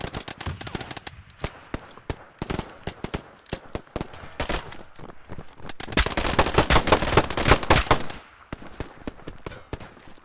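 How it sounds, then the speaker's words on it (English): Dense automatic gunfire and single rifle shots crack in close, rapid bursts during a co-op firefight in the military shooter Operation: Harsh Doorstop, swelling into a heavier, louder volley midway that could include a grenade blast before the shooting tapers off. "I'm gonna put a grenade down there."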